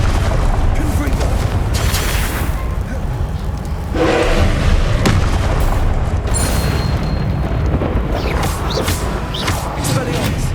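In the Hogwarts Legacy video game, a Confringo fire spell blasts out as loud, heavy booms over a dense wall of combat noise, with voices mixed into the clamour.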